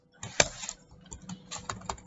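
Typing on a computer keyboard, a few quick, fairly close key clicks in short irregular bursts with gaps between them, no speech.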